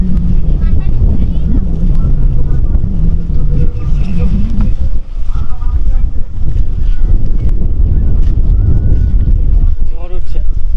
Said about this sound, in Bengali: হাওয়া হচ্ছে, বাট সেটা বেশ ঝোড়ো হাওয়া।